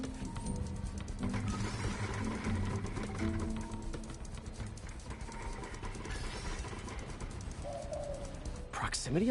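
A pigeon cooing in Spider-Man on PS4, low and faint under a steady wash of city traffic rumble, with a brief rising tone near the end.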